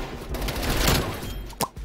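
An MP5 submachine gun fires in Call of Duty Cold War multiplayer as a dense, rapid burst of gunfire. The shots blur together into a loud, continuous rattle, followed by a short sharp pop near the end.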